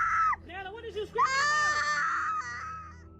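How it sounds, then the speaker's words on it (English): A child screams and wails loudly, a high strained cry breaking off, then rising again into a long sustained shriek that slowly fades. "what did you scream"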